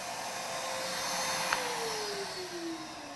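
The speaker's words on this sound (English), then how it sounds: "So I'll switch the vacuum off." Shop vacuum running steadily beside a wood lathe while a large natural-edge bowl is being turned, a continuous broadband roar with a faint falling whine, no voices.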